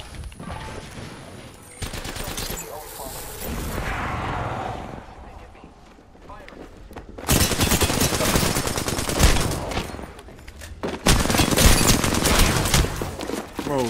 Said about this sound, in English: I must be the only one firing at these dudes.